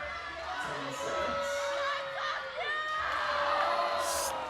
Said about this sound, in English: The crowd's behind her.